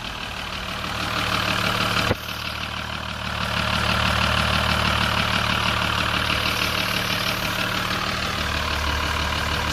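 Rebuilt Ecodiesel engine idling steadily, a loud continuous low rumble with a brief dip in level about two seconds in, then running on evenly.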